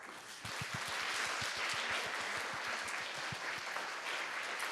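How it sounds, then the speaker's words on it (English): Audience at a plenary conference session breaks into applause, a dense burst of clapping that starts suddenly and holds steady at moderate volume, with no voices. "So let's give ourselves a big round of applause."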